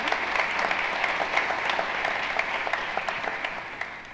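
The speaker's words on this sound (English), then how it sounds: "I would like to give both of them an applaud and thank you for coming" A panel audience at a culture, cities and communities conference applauds the two panel speakers, with steady, dense clapping throughout that eases off slightly toward the end.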